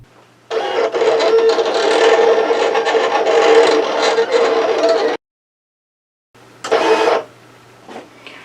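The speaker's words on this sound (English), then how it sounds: "it says the machine is ready because we have loaded the mat, and so I'm just going to hit send, and we will watch it start drawing" A Silhouette Cameo 4 cutting machine draws with infusible ink pens, giving a loud continuous motorized whir with rapid rattling for several seconds, then a pause, then a shorter burst of the same mechanical hum.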